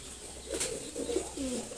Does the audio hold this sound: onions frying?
no